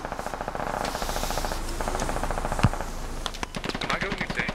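Machine gun fire rattles in the video game Squad on an Afghanistan map, rapid repeated bursts of automatic shots at close to middle distance with a single louder crack partway through.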